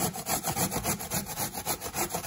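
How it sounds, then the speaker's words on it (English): Ginger and carrot grated together on a kitchen grater, a steady rapid series of rhythmic rasping strokes, close and clear with no voices. "We might as well just grate it all together, innit?"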